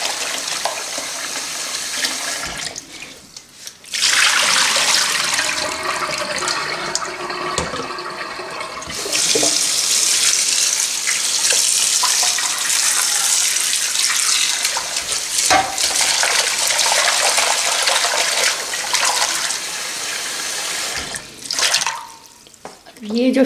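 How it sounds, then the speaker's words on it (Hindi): Tap water runs steadily into a sink while raw fish is rinsed for a fish curry, a continuous splashing wash with pauses and a few clatters, and a voice speaking over parts of it. "पानी फेंक दें, दोबारा से फिर वाटर डालें। ऐसे 3 से 4 दफ़ा वॉश करना है"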